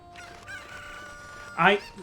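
A cucco chicken in the game Zelda: Ocarina of Time gives a short, bright crow near the end, heard over a faint background tone.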